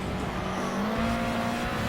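Race car in a racing video game at Monza dropping down to second gear, the loud engine note shifting in pitch under a steady roar close to the listener.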